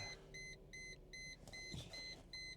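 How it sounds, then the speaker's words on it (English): A car starting up beside a Carpuride C92 car tablet gives a run of evenly spaced electronic beeps over a low engine rumble, close and clear. "you have to start the car up"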